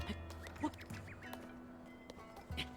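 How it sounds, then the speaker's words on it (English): Cucco birds clucking in The Legend of Zelda: Tears of the Kingdom, a few short quacky calls scattered over a steady game ambience, moderately close, with no talk. "Cuckoos!"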